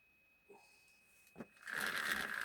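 Peugeot 103 moped with the choke on during a start attempt: after near silence and a couple of small knocks, a buzzing whir of the small engine starts up and runs for the final second.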